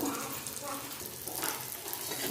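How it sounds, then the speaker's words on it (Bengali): Chopped onions frying in oil in a pan for kalmi shak, a soft, continuous sizzle heard up close at low volume. "পেঁয়াজটা খুব ভালো করে লাল লাল করে ভেজে নেবো"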